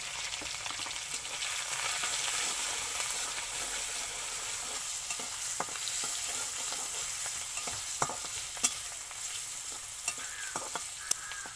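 Prawns frying in oil with dried chili, salt and turmeric, a steady bright sizzle with occasional sharp pops and light stirring clicks near the end.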